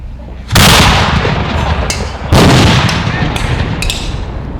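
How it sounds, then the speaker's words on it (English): Two loud ceremonial cannon booms at an outdoor opening ceremony, about two seconds apart, each with a long rumbling decay; faint voices in the background. "The cannon's going to go first."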